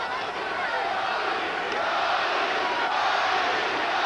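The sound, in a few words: boxing arena crowd chanting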